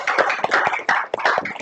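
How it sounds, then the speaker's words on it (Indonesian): Classroom students clapping together in a dense, continuous burst of applause, close and fairly loud, with no talking. "Tepuk tangan untuk kita semua."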